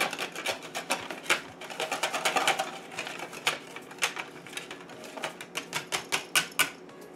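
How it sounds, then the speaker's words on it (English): A whisk clicks rapidly against a bowl while vegan batter for eggplant parmesan is beaten to break up lumps. The light, quick, irregular tapping is close, fairly quiet and continuous, with no talking. "we're gonna go ahead and whisk it to get out the lumps"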